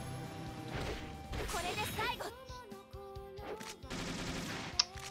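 Gunfire from The Caligula Effect 3 video game comes as rapid bursts of shots with crashing impacts over game sounds, and a person talks over them.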